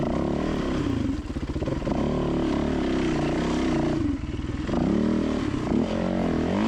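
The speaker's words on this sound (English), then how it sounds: "Come on, Georgie, twist that throttle some more." Dirt motorcycle on a canyon climb trail, engine revving loudly and continuously with throttle swells and dips, close up, with clattering from the rough ground and no talk.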